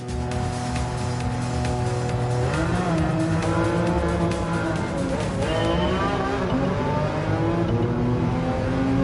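An engine-swapped, naturally aspirated 1966 VW Beetle racing in Gran Turismo 7, its engine revving hard and shifting through gears with tires squealing, loud and continuous throughout.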